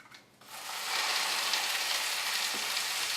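Seasoned turkey sausage browning in a hot pan, a steady broadband sizzle rising after a quiet start and holding loud and close, with one faint knock near the end.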